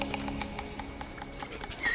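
A horse's hooves clip-clop in a quick, steady rhythm, close and fairly loud. A brief higher note near the end may be a whinny.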